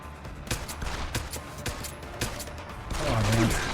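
Video game pistol fire with a laser sight: sharp shots crack in an irregular series of bursts over game noise, and a voice briefly joins near the end.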